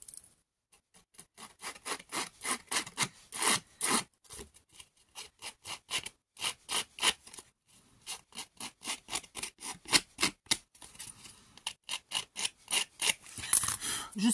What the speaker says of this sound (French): Allez, on va le gratter.